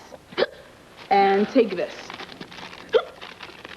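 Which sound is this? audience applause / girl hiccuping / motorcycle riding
girl hiccuping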